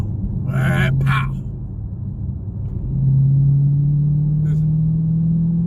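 A Dodge Challenger Scat Pack with an eight-speed gearbox sends out a deep, loud engine rumble that swells and holds near the end, after a brief spoken word at the start.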